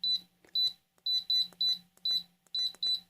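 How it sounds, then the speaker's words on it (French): A La Grange yogurt maker's control board buzzer sounds short high-pitched beeps as its buttons are pressed, about nine bleeps in an uneven sequence, close and clean with no talk. "On va voir ici, j'ai laissé le buzzer derrière."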